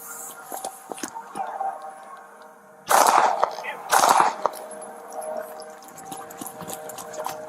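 Gunfire erupts during a police confrontation with an armed suspect, two loud bursts of sharp cracks amid shouting officers and scuffling noise.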